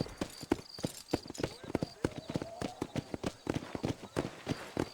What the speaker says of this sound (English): You ain't gonna find sturdier horses than these in all of New Albany.